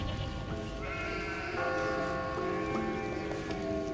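Several video game sheep bleat over a constant background hum, with overlapping calls rising and falling at a moderate distance.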